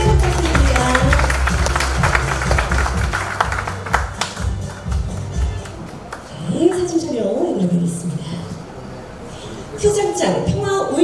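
An audience claps at an awards presentation during an industrial complex convergence day event, a dense, loud burst of applause in the opening seconds that fades out, followed by a voice talking over the room.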